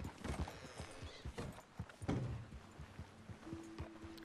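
Horse hooves clip-clopping on the ground in the Red Dead Redemption 2 video game, an irregular series of close thuds with some background game sounds.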